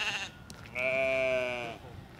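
A sheep bleats loudly and close by at a farm during feeding time, one sustained wavering call that rises out of steady outdoor background noise.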